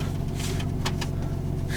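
Nissan Stagea car driving gently with its engine running and turbo, a steady low rumble inside the cabin with faint brief higher whooshes over it.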